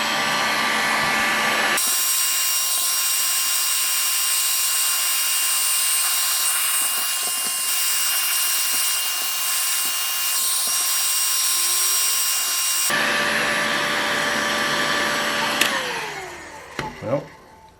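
A heat gun on its high heat setting blows with a loud, steady whirring hiss that runs unbroken for several seconds, then winds down and ends with a few clicks and taps.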